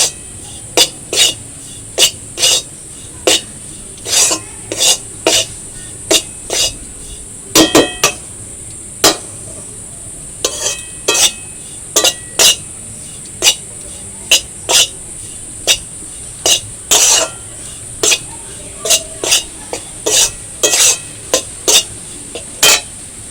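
Flour being stirred continuously in a pan while making sandesh, with cashew powder about to go in: a steady run of sharp, regular scraping clicks of a utensil against the pan, close and fairly loud, with no talking.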